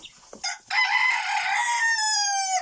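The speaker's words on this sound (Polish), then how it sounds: "Trochę popatrzymy sobie na kurki." A rooster in a chicken coop crows a single long, loud, close call after a few brief clucks from the hens.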